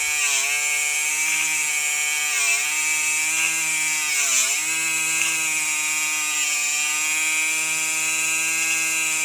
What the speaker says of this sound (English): It's a buffer, grinder, whatever you want to call it. You can get this on there spinning real good